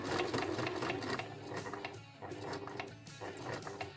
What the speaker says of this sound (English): I'm sewing the last couple of stitches, back stitching.